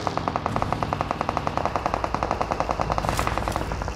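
Rapid automatic gunfire in PUBG Mobile rattles in a fast, even stream of shots, continuous and loud for several seconds.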